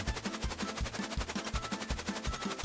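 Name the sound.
cartoon magnetic gun firing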